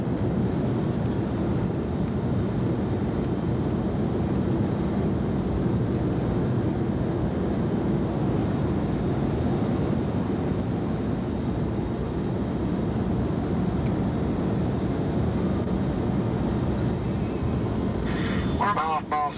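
Inside a Concorde airliner cabin on final approach with the landing gear down, a constant loud rumble and roar of engine and airflow fills the whole stretch. A brief voice is heard near the end.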